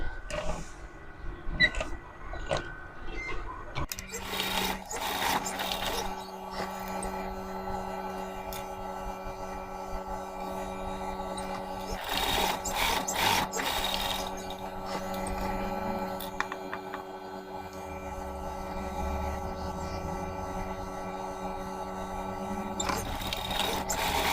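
A sewing machine runs in a steady, whirring hum with faint rhythmic ticking while stitching crisscross grid lines across the fabric of a homemade coin-and-card wallet. Brief pauses and restarts break the even drone.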